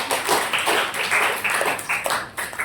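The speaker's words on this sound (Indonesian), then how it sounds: "bisa dikasih tepuk tangan ya" Classmates in a school lesson clap for a peer, a dense, close patter of hand claps that rises and falls in short bursts.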